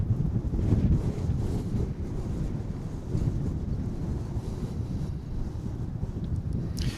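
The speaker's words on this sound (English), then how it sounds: "The only moderating factor, of course, is the wind." Steady wind blows at Dallas/Fort Worth Airport on a cold January day, buffeting the microphone with low, continuous rumbling gusts that swell and ease throughout.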